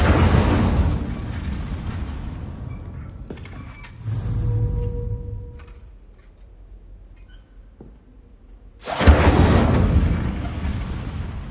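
Incendio fire spell bursting into flame in the Hogwarts Legacy video game, a loud whooshing blast at the start, a quieter flare midway, then another heavy roaring burst near the end.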